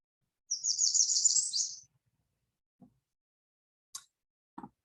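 A warbler sings one rapid, high, buzzy trill lasting just over a second and ending emphatically, clear and fairly close. A few faint, brief knocks and chips follow in near silence.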